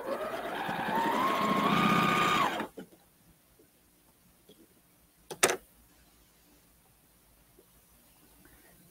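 A sewing machine stitches pieces of a quilt block together in a steady whirring run of about two and a half seconds, then stops, leaving quiet handling and one sharp click.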